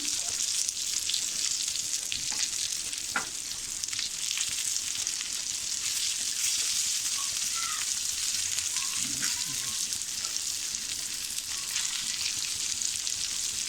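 Saundale fish sizzle steadily as they fry on a hot tawa, a close, continuous hiss with faint crackles and occasional stirring taps, and a voice speaking quietly.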